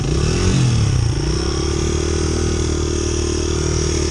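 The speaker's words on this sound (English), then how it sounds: "My bike's just freaking idling." A dirt bike engine idles on ice, a steady loud motor drone with a brief louder rev near the start, then an even running rumble throughout.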